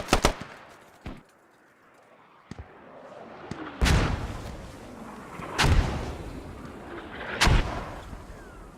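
Mortar rounds landing in a military shooter on the Kohat map: six heavy booming impacts spaced irregularly, some sharp and close, others deeper with long rumbling tails, alone without talk.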